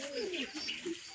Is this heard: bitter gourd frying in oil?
no